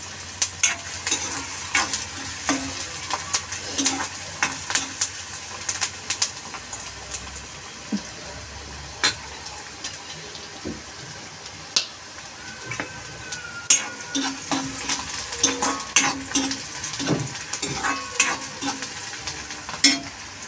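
Chopped onion frying in a pan for a Surti papdi bean curry, a steady sizzle broken by frequent scrapes and taps of a stirring spoon, with faint birdsong in the background and no talk.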